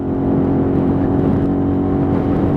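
A Bullit Hero 50cc motorcycle, recently serviced and running lean, hums along at steady speed with a constant buzzing engine note and wind rush, no talking.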